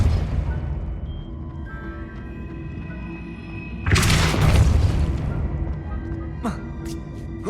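A Depulso spell is cast in the game Hogwarts Legacy, letting out a sudden booming blast mid-clip that swells and then fades, over a low, humming game ambience with faint tonal lines.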